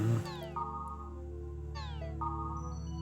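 A cat in a video game meows twice in sliding, electronic-sounding calls over a steady background hum of game music, with no speech.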